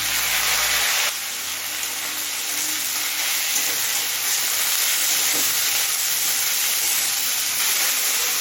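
Two large chopped tomatoes sizzle loudly in a pan over lightly browned onions for a chicken rajma, a steady, dense frying hiss that runs unbroken and close throughout.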